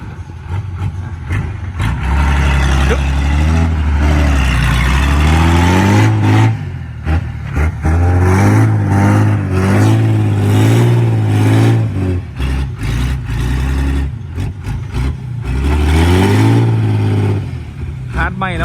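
Several long-nose trucks gathered to fill land, their engines revving loud and close in sustained roaring surges that rise and fall, with a person talking over the din.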